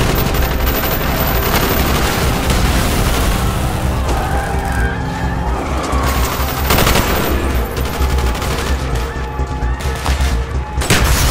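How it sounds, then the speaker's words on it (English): Heavy, continuous gunfire in Call of Duty: Black Ops during a street fight, with rapid automatic bursts and booming shots layered loudly throughout, dense and close, with occasional louder blasts. "Bowman, Carlos, lay down covering fire."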